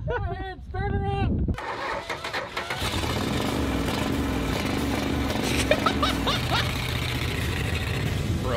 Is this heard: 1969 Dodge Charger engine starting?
yes